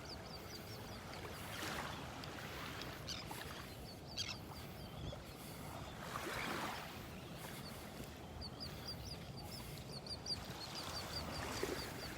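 Ducks quack faintly and far off, mixed with other birds, over a steady wash of surf and wind on a morning beach in North Naples, Florida.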